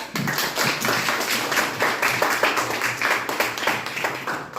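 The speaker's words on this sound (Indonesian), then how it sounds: "Ya, tepuk tangan buat kita." A classroom of students clapping together in steady rapid applause at the close of a lesson, fairly close and even in loudness throughout, with no talk over it.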